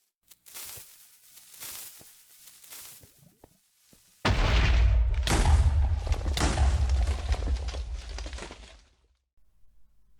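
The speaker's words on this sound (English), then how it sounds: "I had a lot of dynamite with me, or TNT, and I began to make explosions closer to the bedrock" TNT blasts in Minecraft while digging toward bedrock: a string of soft muffled pops, then a loud close burst of deep booming explosions overlapping for several seconds before cutting off.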